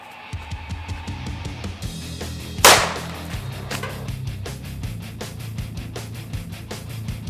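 A Taurus Raging Judge revolver fires a 3-inch magnum buckshot shell into a 10-pound bag of flour, one sharp close blast midway through, set among scattered clicks and handling noise.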